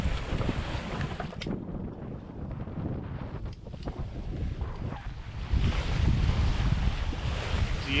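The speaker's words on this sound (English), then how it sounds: "Got us some good wind." Strong wind rushes past the microphone on a sailboat crossing from Carriacou to Union Island, with water washing against the hull, loud and continuous and gusting harder toward the end.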